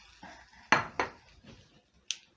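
Fried fish lifted onto a plate, a few distinct clinks and knocks of utensil against dish, close and sparse, with a final bright tap.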